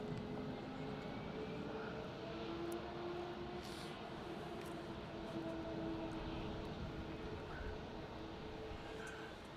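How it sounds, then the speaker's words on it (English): A Malaysia Airlines aircraft crosses a cross runway at Melbourne Airport, giving off a continuous distant engine roar with a faint steady whine, heard alone without voices. "Malaysia is just crossed over the cross runway on Victor."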